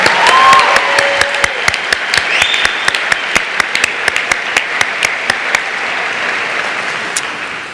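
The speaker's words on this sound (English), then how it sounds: "let's give yourselves some applause" A college commencement audience at the 2018 graduation ceremony applauds the graduating class: steady, dense clapping from a large crowd, loud and sustained, with a few whoops early on before it gradually thins out.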